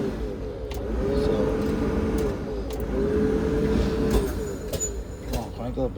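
A yard dog terminal truck's engine cranks and labours in a steady rough churn with a rising whine, close and fairly loud, while someone talks over it.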